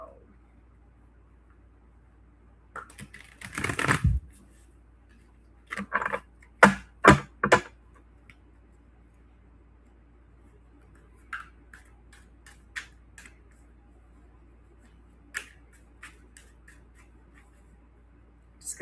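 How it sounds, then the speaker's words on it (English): Tarot cards being shuffled by hand, a burst of papery riffling and soft flicks followed by a few sharp card taps, then sparse faint clicks over a quiet room with no one talking. "Just gonna shuffle this up before I timestamp it again."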